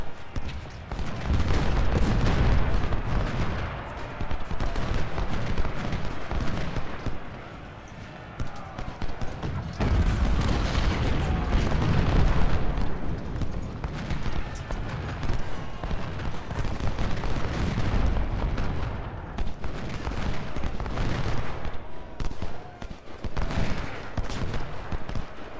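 Musket volleys and artillery fire in a Civil War video game battle at First Bull Run, a dense, continuous barrage of overlapping gunshots and booms that stays loud throughout, with a voice talking over it.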